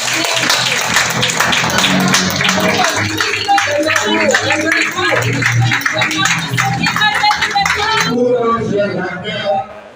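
A conference audience applauds and cheers loudly and steadily, welcoming the newly honored world vice-president of an international public services union, with voices talking over the dense clapping throughout.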